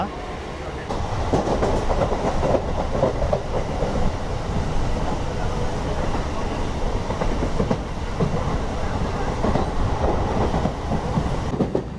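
From aboard the Bitragunta to Chennai Central MEMU express after leaving Sullurpeta, a steady loud rumble of the moving train fills the scene, with rhythmic clickety-clack of wheels over rail joints and carriage rattle throughout.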